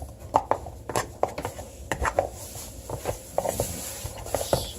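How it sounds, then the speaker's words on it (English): Buckwheat pancake batter is stirred in a bowl with a spoon, producing a quick series of close soft taps and clicks against the bowl in an uneven rhythm, with no voice over it. "Mix it with the spoon."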